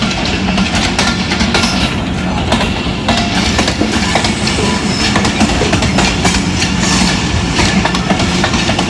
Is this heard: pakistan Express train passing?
yes